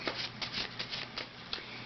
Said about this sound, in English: Just shuffling my decks before I use them.